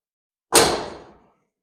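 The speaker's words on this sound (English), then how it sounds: "And then we're gonna see we're closing the door." A car door on a G-body car with a roll cage being fitted shuts in a single sharp slam after silence, then rings briefly and fades within about half a second.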